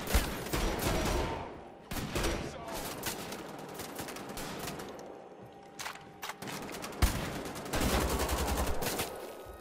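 Shotgun blasts and heavy gunfire in Wolfenstein: The Old Blood, a loud burst of repeated shots with short gaps, then more firing bursts toward the end, set against game noise.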